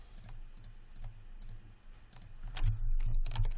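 Computer keyboard keys pressed during 3D modeling work in Maya, a scattered series of soft clicks and taps close by, with a quicker cluster of presses near the end.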